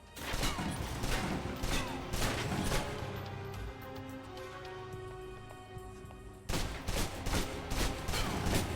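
Submachine gun fire in a video game, with rapid bursts of loud close shots at the start, a quieter stretch of ringing game sound in the middle, then more bursts near the end.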